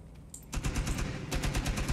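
Rapid bursts of video-game gunfire from a tactical shooter, a quiet start then dense automatic fire from about half a second on, with a brief lull before another loud, close volley.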